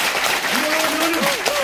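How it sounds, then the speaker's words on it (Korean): Audience applause at a lecture on preventive medicine, steady dense clapping filling the whole moment with a brief tonal whistle-like line running underneath. "두 분들 다시 한번 박수 한번 쳐주세요."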